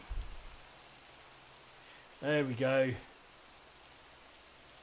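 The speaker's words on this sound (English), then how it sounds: "Let's turn the weather off again because it keeps raining." Rain falls in Minecraft as a steady, even hiss throughout, with someone briefly talking over it.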